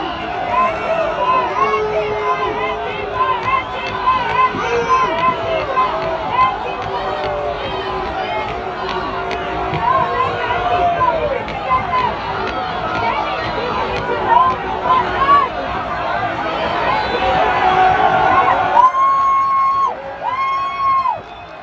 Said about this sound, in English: What you hear is the crowd shouting at the Antifa person to stop